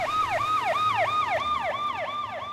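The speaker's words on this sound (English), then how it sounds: "It's what happens when an ambulance rushes past you and the sound you hear changes frequency." Loud ambulance siren in a repeating wail, each rising-and-falling sweep following the last in a steady rhythm, with faint traffic rumble underneath and no voices.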